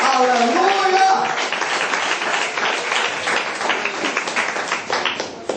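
A church congregation bursts into steady applause, dense rhythmic clapping filling the room and rising under a shouted voice at the start, then carrying on alone and fading slightly toward the end.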